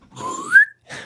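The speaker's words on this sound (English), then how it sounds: "Insert slide whistle here." A slide whistle sound effect: one rising whistled glide that climbs steadily and peaks near the end, followed by a brief burst of other noise, with no talk over it.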